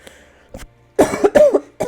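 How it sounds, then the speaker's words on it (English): A person with a winter cold coughs several times in close, loud bursts, with a brief throat-clearing sound early on and short quiet gaps between the coughs. "It's cough o'clock."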